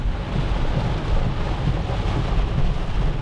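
Heavy rain pours steadily during a storm in Toronto, a dense, loud hiss with a low rumble underneath and no voices.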